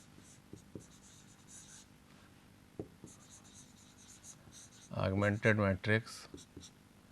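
Pen strokes of someone writing out an augmented matrix by hand, with faint scattered scratches and taps early on, then a denser, louder run of writing near the end and a voice talking at the close.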